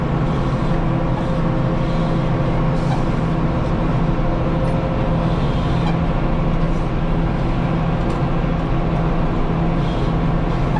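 A tractor running a PTO-driven mower at about 750–800 PTO RPM through wet orchard grass at first hay cutting, a loud, steady engine drone with constant low rumble throughout.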